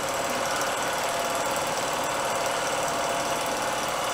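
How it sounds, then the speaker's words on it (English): A milling machine cuts metal with a carbide-tipped shell mill, giving a continuous dense grinding roar with a steady rumble throughout and no pauses. "here just running a free carbide tip shell mill"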